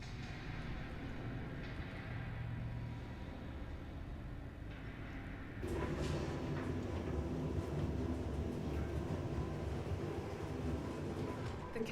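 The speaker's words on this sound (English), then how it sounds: "The capsule now approaching station." Transit capsule pulling into a station in the video game Star Citizen, a steady loud mechanical rumble and whoosh that shifts and swells partway through, with faint overlapping layers and no speech.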